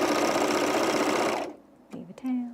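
A sewing machine runs fast and loud, stitching elastic onto underwear, then stops abruptly; a few short mechanical clicks and a brief whir follow.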